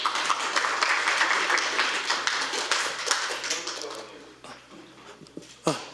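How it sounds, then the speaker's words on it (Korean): An audience at an economics lecture claps to welcome a speaker to the stage, with a burst of crowded applause that gradually thins out and fades toward the end. "큰 박수로 맞이하겠습니다."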